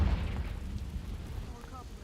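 A Confringo spell explosion in Hogwarts Legacy: a low, rumbling blast that fills the short clip, sitting under faint game ambience.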